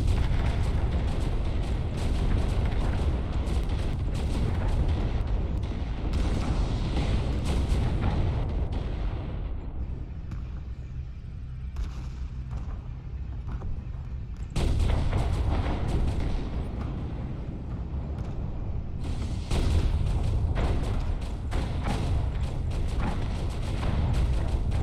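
Dense, continuous video-game battle noise of missiles launching and exploding, a roaring barrage of booms and blasts that briefly thins out midway before surging back at full intensity.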